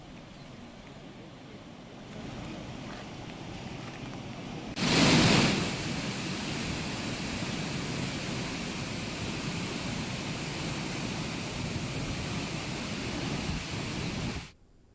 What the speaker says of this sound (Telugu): ప్రాజెక్టు నలభై ఎనిమిది గేట్లు ఎత్తి నీటిని విడుదల చేశారు